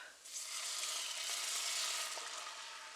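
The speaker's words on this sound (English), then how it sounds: "we're going to deglaze with 1 cup of our mead" A hot pan sizzles loudly and steadily as a cup of mead is poured in to deglaze it while rabbit cooks in a spiced mustard sauce, a close hiss with no talking.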